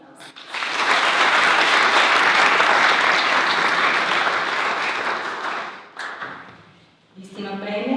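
Applause fills a university senate ceremony hall as an honorary award is given in absentia, a dense, steady clapping from a seated audience that swells quickly, holds for several seconds, then fades before a voice resumes speaking.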